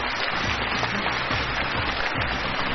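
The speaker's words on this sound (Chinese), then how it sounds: "让我们掌声有请" A studio audience at a televised book programme claps in a dense, steady burst that holds evenly across the whole stretch, with no speech.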